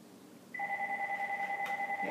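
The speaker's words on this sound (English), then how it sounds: "And now the phone's ringing, so just forget it." A telephone rings in a steady electronic two-tone trill that starts about half a second in and carries on, loud and clear, over a quiet room.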